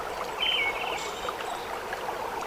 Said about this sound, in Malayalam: നമ്മൾ പറഞ്ഞു വന്ന ആ ഒരു അരുവി സൈഡിൽ ചെറുതായിട്ട് ഒഴുകുന്നുണ്ട്.